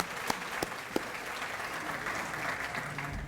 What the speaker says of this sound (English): You all need to applaud yourselves for supporting the Education Foundation.